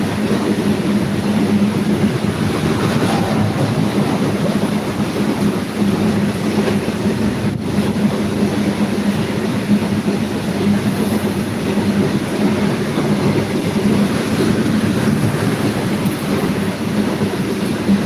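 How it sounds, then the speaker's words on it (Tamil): A goods train hauled by two engines rolls steadily through a railway station at Kilambakkam, Chennai, a continuous loud rumble with a low hum and rattle of wagons, with no voices. "அருமையான கூட்ஸ் ட்ரெயின் வருகிறது. 2 இன்ஜின் இருக்குது."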